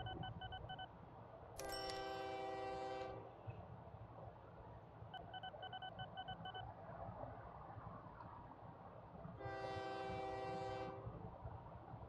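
A train in a railway video game rumbles steadily along the track. Two long, loud horn blasts sound, one early and one near the end, over the continuous rolling noise.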